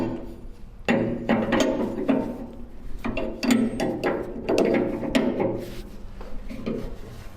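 Ratchet tightening a fuel line fitting on an old Ford tractor, quick bursts of clicking strokes in several separate runs, fairly close and moderately loud, with no talking.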